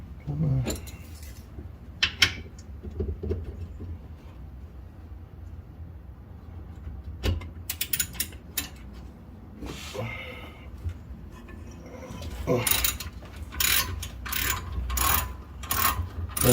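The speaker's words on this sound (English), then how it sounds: "First round, we're just gonna go around loosening bolts first." Ratcheting and metallic clicking from a socket wrench loosening bolts on a Porsche 944 drift car, intermittent bursts of clatter and rattles in a garage, with some low background noise.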